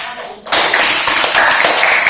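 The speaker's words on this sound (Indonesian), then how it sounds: "tepuk tangan untuk kelompok" Classroom audience claps for a student group after its presentation, a sudden burst of steady, fairly loud applause that starts after a brief quiet moment and keeps going without talk.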